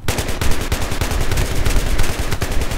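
Rapid, loud automatic gunfire in Battlefield 3 multiplayer rattles without pause for about three seconds, with dense close-range bursts and no talk over it.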